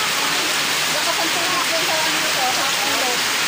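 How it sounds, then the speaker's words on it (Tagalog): Floodwater rushes steadily into a house, a dense continuous hiss and splash like heavy rain or a stream that fills the whole clip without pause. "Pasok na yung tubig ah."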